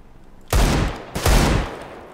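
Two loud bursts of gunfire from a CS:GO or Overwatch match, each a dense volley lasting about half a second, separated by a brief gap, with no talking over them.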